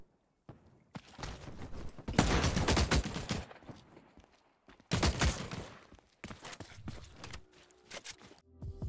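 Gunfire traded between teams in The Cycle: Frontier, heard as repeated bursts of rapid shots that come in loud clusters separated by brief lulls, with scattered footsteps and no voices.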